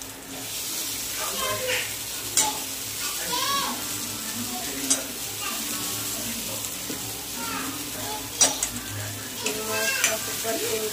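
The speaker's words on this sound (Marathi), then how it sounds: "आपण यात चिरलेले वांगे टाकू।" Chopped eggplant sizzles and fries in a pan for a Marathi khar vang dish, with steady crackling, occasional stirring scrapes and clinks, and a voice speaking over it.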